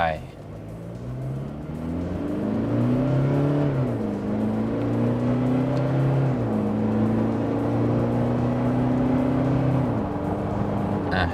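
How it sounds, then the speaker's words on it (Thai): A Toyota Fortuner GR Sport pulls hard from rest toward 100 km/h, its engine note climbing steadily through a couple of gear changes, heard close from inside the cabin as one continuous loud drone. "ว่าส่วนหนึ่งร้อยของ Fortuner GR Sport คันนี้จะเฟี้ยวเงาะขนาดไหนนะครับ"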